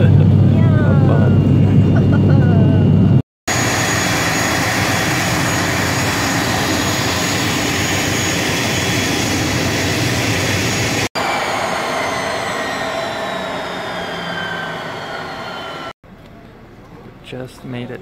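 Steady airliner cabin drone from a one-hour domestic flight to Sittwe, Myanmar, a loud continuous engine roar with brief cuts and a faint whine, carrying on to the end.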